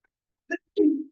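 A single short, sharp sneeze in an exercise class, followed by a longer throaty exhale, close and fairly loud, with silence around it.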